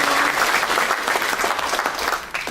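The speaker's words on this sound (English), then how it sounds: "Give him a round of applause." An audience at a drama camp play applauds steadily, dense clapping filling the space without a break, loud and sustained throughout.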